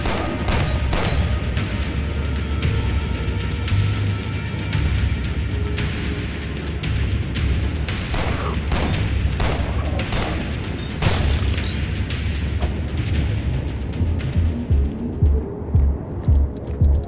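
Video game gunfire and explosions boom continuously and loudly, with dense rumbling blasts and sharp bursts layered throughout, ending in a run of distinct rhythmic shots.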